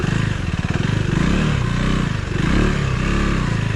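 A 2024 Husqvarna Svartpilen 401 motorcycle riding along a narrow single track, its single-cylinder engine thumping steadily and loud up close, with rev swells as the throttle varies.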